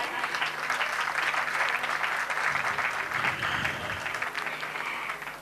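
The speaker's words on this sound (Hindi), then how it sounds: "चाहूँगी एक बार ज़ोरदार तालियाँ।" Audience applause at a Naari Shakti award ceremony, a continuous bright patter of many hands clapping that holds steady for several seconds before easing slightly at the end.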